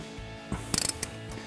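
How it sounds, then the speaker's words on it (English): A ratchet with a 13mm socket tightening a brake line bolt at the caliper of a 2015-2023 Ford Mustang EcoBoost, a short burst of rapid close clicks followed by a single click, with no talking. "grab your ratchet and 13mm socket and tighten that down"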